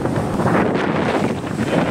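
Strong wind buffets the microphone on the deck of a ferry at Batangas Port, a loud, steady roar with faint water wash underneath and no voices.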